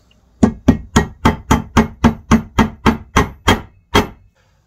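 A hammer taps on an engine crankcase part of an MBK Booster Next 70 scooter. Eleven sharp, evenly spaced metallic knocks ring out close and clear, with a slight pause before the last one, and there is no talking.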